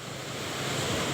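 Waves on a beach at Simeulue rush in a brief, steady wash of surf noise, with some wind and no voices.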